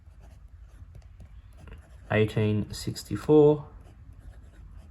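A steel medium nib on an Esterbrook JR pocket fountain pen, inked with Diamine blue black, scratches faintly across paper while a voice speaks briefly over it.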